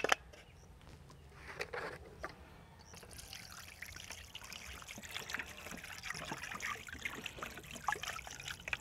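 Water from an outdoor tap trickling and splashing over baby back ribs being rinsed before marinating, a soft uneven running flow close by that grows steadier after the first few seconds.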